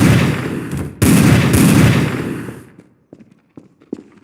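Gunfire in the video game Garry's Mod on a haunted asylum map: a dense, loud burst of rapid shots for about two and a half seconds, followed by a few sparse, fainter single shots.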